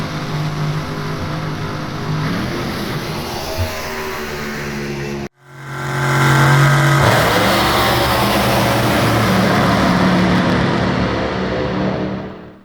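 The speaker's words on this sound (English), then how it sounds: "Top alcohol dragster." A top alcohol dragster at a drag strip roars loudly, cuts out abruptly for a moment, then surges back into a sustained howling rev that slowly fades, with no voices.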